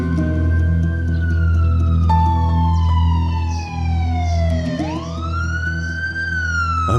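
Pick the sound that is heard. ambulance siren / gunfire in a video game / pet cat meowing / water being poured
ambulance siren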